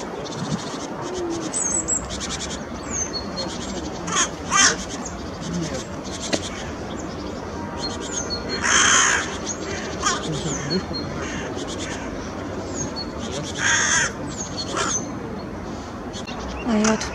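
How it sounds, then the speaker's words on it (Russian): A crow caws repeatedly and agitatedly in a city centre, with sharp calls rising at intervals over constant background noise and the chatter of small birds. "Ворона очень волнуется."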